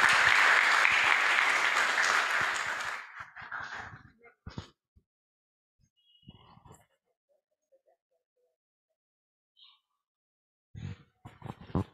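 Audience applause at an event reflecting on 30 years of HURIPEC, a full burst of clapping that fades out after a few seconds into near silence broken by scattered small noises.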